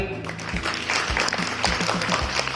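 Applause honoring two girl students from a government upper primary school in Churu district for a top-three exam placement, a short burst of clapping at steady volume with some voice-like sound mixed in.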